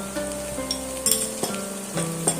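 A teaspoon of ginger-garlic paste and two slit green chillies sizzle in a hot pan, a steady crackling fry close by, broken by a few light scrapes and clinks of a stirring utensil.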